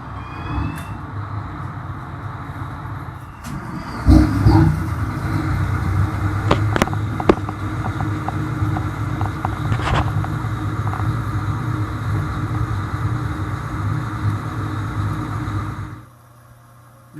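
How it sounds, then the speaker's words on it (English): Twin Detroit Diesel 6V92 marine engines, 550 horsepower apiece, on a 1995 Viking 43 Express boat, turning over from an ice-cold start after sitting idle for weeks, with a steady deep rumbling drone broken by a loud surge and sharp clanks before cutting off near the end. "And I'm going to start these 6B92 Detroits at 550 horsepower apiece, so you can see how quick and easy they start."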